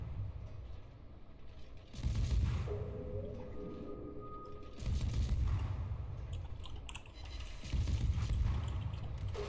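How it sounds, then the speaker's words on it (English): Warship guns fire in the World of Warships video game as three loud, broadband salvos boom and rumble at intervals, with quieter game effects and a brief tonal cue between them. "Concentrate fire on the enemy warship."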